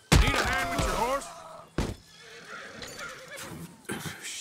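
A horse whinnies loudly up close in the video game Red Dead Redemption 2, followed by a couple of sharp thuds and shuffling noises, with a brief voice in the background.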